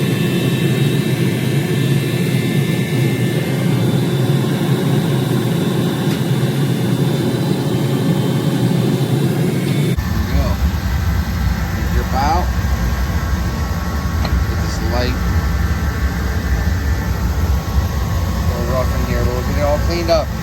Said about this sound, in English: The heater's about to kick off.